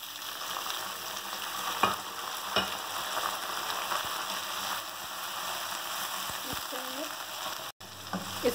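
Beef pieces fry over a high flame with golden brown onions for nihari, a steady, close hiss and sizzle with occasional stirring clanks and knocks throughout.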